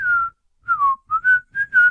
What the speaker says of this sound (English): you can't say that title without us whistling